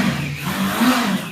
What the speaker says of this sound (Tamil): இந்த பைக் ஒருக்கா ஸ்டார்ட் பண்ணி காட்டுவீங்களா எனக்கு ஒருக்கா?